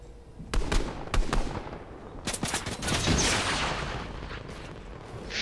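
An airstrike lands during a Fortnite match, with sharp blasts and rapid gunfire cracking in quick succession before a rumbling roar trails off.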